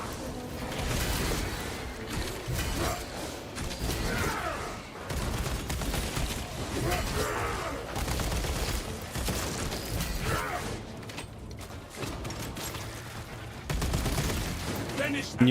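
A melta heat-ray weapon fires in a Warhammer 40K operation on the hardest difficulty, a dense run of loud blasting bursts with mechanical clatter, broken by short gaps, while a voice talks over parts of it.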